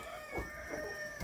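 Chickens in a coop prepared for cold weather give a couple of brief, muffled clucks over a steady background hiss.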